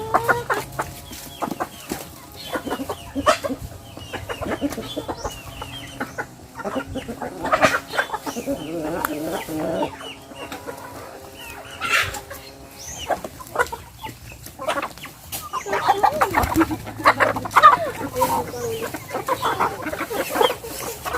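Chickens cluck steadily over a 20-second stretch, several birds overlapping in a busy, continuous chatter, fairly close with some farmyard background.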